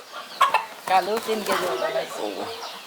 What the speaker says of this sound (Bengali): বাড়ির সর্বোচ্চ মোরগ